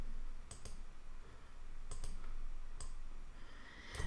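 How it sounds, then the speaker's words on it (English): A handful of faint, sharp computer mouse clicks sound in small pairs and singles, spaced apart in a quiet room while a folder is chosen on screen. "I'm going to click the folder option, browse, and select that folder"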